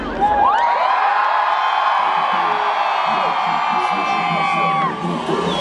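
Large outdoor concert crowd at a city day celebration in Mykolaiv, shouting loudly on cue in one sustained roar of whoops and yells, dense and close, fading slightly near the end.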